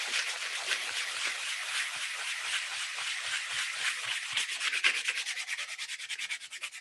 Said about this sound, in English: just with a little bit of sanding, you can get rid of all those brush marks.